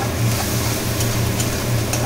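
Kashmiri chili powder being stir-fried in a little oil makes a brief, dense, continuous sizzle close up, with a low hum underneath.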